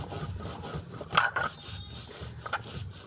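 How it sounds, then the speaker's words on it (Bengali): Ginger and garlic being ground into paste by hand, a steady near rasping rub with a few sharper scraping strokes, no voices. "প্রথমে বেটে নেব আদা"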